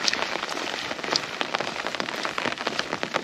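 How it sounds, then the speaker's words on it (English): Steady rain patters on a surface, with scattered louder drops tapping through a continuous wash of falling water. "the rain is starting to set in a little bit now"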